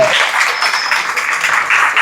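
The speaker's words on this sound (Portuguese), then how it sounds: "Eu quero uma salva de palmas para essa meninada aí" An audience in a Portuguese-language lecture hall applauds the tutors who have stood up, a steady, dense wash of clapping that holds at a constant level for about two seconds with no talk over it.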